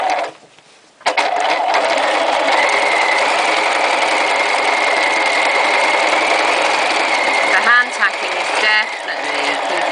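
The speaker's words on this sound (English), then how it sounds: "one way of making a straight stitch a bit more fancy by making it twin stitching" A sewing machine runs steadily, twin stitching a straight line on a rucksack. It whirs continuously for most of the stretch after a brief pause at the start, with a few short stops and restarts near the end.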